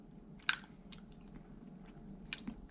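Bibim-myeon, Korean cold spicy noodles, being chewed and eaten up close, with a sharp crunchy bite near the start and softer wet chewing and a later bite over quiet room noise.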